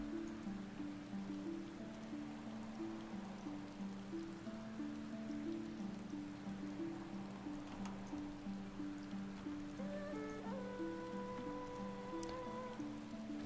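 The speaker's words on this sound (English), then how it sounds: "I've really been enjoying the rainy weather I've kind of stumbled into here" Steady rain falls in Final Fantasy XIV, a soft continuous patter spread evenly throughout, with gentle game music tones layered over it and no talking.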